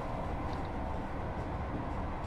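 Class 158 diesel train running along the York to Garforth line in the Train Sim 2019 video game, a steady rumbling drone of the moving train at moderate level, with no talking.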